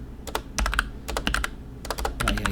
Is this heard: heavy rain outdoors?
no